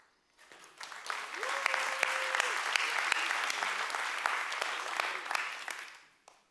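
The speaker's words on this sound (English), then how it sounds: "You would have heard the applause if you were here." Conference audience at AxonIQ Con 23 breaks into steady, dense applause that swells quickly, holds evenly for several seconds, then fades out, with a faint voice and a brief tone in the background.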